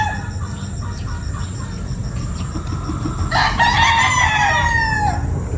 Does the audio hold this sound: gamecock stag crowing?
yes